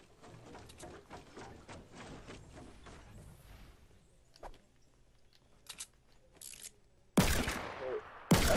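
Video game gunfire aimed at a tree: a few sharp, loud shots near the end, after a stretch of quieter game noise and scattered clicks.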